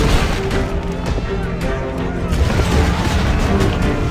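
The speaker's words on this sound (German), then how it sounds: "Das Magazin! Es explodiert!" A ship's powder magazine exploding in Assassin's Creed Black Flag: a loud, continuous roar of booming blasts and crashing debris that fills the scene with dense low rumble, and faint voices can be heard underneath.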